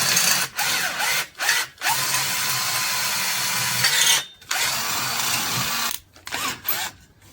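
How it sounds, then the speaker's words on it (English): A power drill whirs loudly and steadily in long bursts, cutting out briefly a few times before spinning up again, close by with no speech. "I got it level, so I'm going to drill it."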